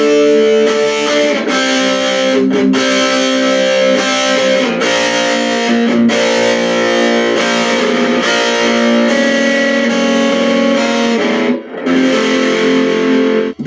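An electric guitar on the bridge pickup plays through a distorted amp, a steady wall of sustained, saturated chords and notes that fills the whole stretch with only brief gaps, loud and close with no talking.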